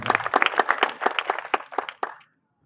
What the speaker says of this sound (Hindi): एक बार तालियां बजा दीजिए साकिब भैया की।